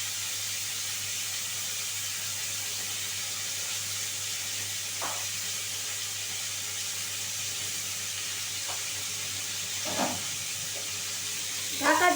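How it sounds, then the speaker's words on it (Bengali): Cauliflower florets fry in hot oil on a gas flame until browned, giving a steady, even sizzle and hiss throughout, with a few faint kitchen clinks and a short clatter near the end. "তেলের মধ্যে আমি ফুলকপিগুলো ব্রাউন করে ভেজে নেব।"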